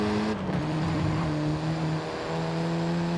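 A Mini, a John Cooper model, drives through city courses in Forza Horizon 5, its engine a steady close drone that shifts pitch once as it changes speed, with no talk over it.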